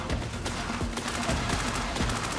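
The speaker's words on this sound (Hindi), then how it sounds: "मुझे बहुत गोलियां लग रही हैं इस वक्त" Rapid bursts of gunfire from a shooting video game crackle in quick sharp volleys close up, layered over a constant dense din of battle noise.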